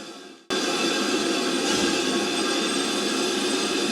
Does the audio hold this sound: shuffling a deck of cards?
no